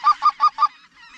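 Geese honk close by during a hunt, four quick, evenly spaced honks and then a trailing, fainter call.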